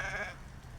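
A sheep with a lamb in a rainy spring pasture gives one short, fairly faint bleat, a wavering nasal call that fades quickly into quiet outdoor background.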